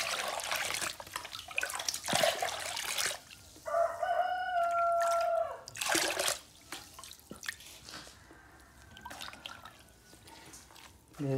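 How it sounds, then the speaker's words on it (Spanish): Water is poured onto chicken feed on a farm to soak it, giving intermittent splashing pours and drips, with a rooster crowing nearby between the bursts of water. "Les echamos bastante agua para remojar."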